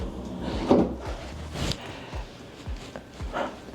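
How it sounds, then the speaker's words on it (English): Empty storage drawers in a hotel room slide open and shut a few times nearby, with wooden knocks and scraping thuds spaced irregularly. "I'm assuming they're just empty storage drawers."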